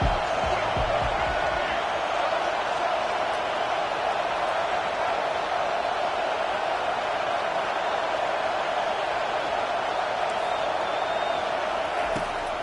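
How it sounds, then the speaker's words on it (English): A dense, steady roar from a football stadium crowd rallying behind the defense on third down, loud and continuous throughout with a broad wash of voices. "Decibels rising as the crowd gets behind this defense on 3rd down."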